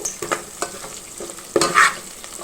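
Green chillies and curry leaves toss in hot oil with a crackling sizzle, broken by several knocks and scrapes of a stirring spoon and a brighter burst of spatter near the end. No one speaks.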